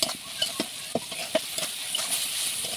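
Turmeric is stirred into a frying masala in a pan for a dish of taro stolons, giving a steady close sizzle broken by several sharp scrapes and clicks of the spatula, with no one talking.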